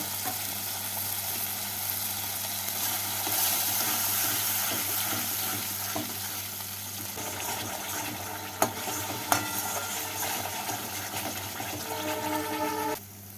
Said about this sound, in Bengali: মশলা বাটিটা দিয়ে অল্প জল দিয়ে মশলাটাকে ভালো করে কষিয়ে নেব